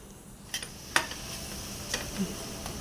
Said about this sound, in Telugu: బంగాళదుంపలు కూడా వేసుకుని బాగా కలుపుకోవాలండి